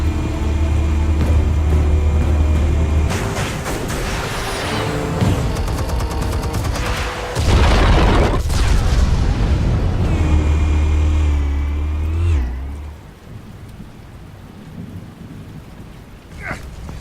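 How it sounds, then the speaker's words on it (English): Explosives detonating in Batman: The Telltale Series, heavy booming blasts and deep rolling rumble over a sustained low drone, with a big burst near the middle before the roar fades to quieter ambience. "Explosives armed. Fire when ready."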